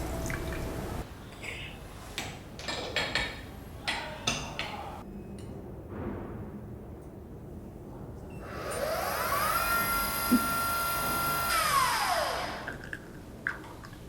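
KUKU coffee maker brewing espresso-style coffee from 20 grams of finely ground coffee with room temperature water: soft clicks and handling noises, then a rising and falling mechanical whine for a few seconds, fairly faint and without talk.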